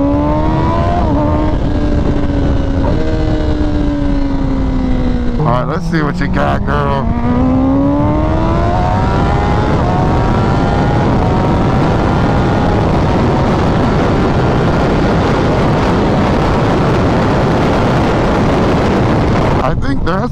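A Kawasaki Ninja ZX-10R KRT Edition motorcycle engine rises in pitch under full-throttle acceleration, shifts down briefly, then climbs again, loud and continuous under heavy wind rush, with a rider speaking briefly over it.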